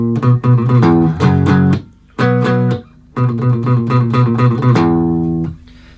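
A loud, distorted electric guitar riff of chunky power chords from a song's interlude, played in short choppy bursts with brief gaps, ending on a longer ringing chord.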